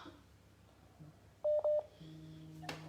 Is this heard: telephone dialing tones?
yes